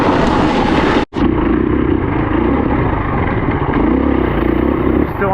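A 2018 KTM 350 enduro motorcycle rides through tight single-track trail, its engine buzzing loud and close with shifting revs and a brief dropout near the start.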